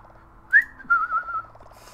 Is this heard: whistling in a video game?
yes